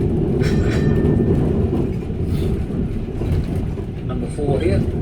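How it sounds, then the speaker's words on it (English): A city tour tram rumbles steadily as it pulls into a stop, with a continuous low rolling drone and faint squeals, while a guide talks over it. "Alright folks, we're coming into train stop"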